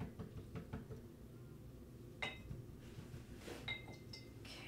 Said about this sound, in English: I'm gonna rinse my brush